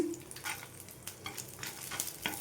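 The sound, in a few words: frying dried red chillies with garlic, stirred in pan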